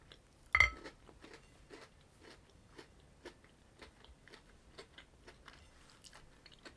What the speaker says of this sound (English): the crunch is more between a biscuit and a Rice Krispie piece